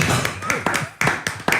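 Several people clap in a radio studio, with sharp, irregular claps landing close together over a faint room murmur.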